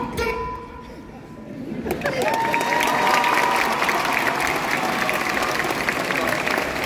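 A crowd applauds at a cosplay show on a stage at Japan Expo in Paris, a dense, steady roar of clapping that swells after a couple of seconds and holds, with a faint tone and talk over the top early on.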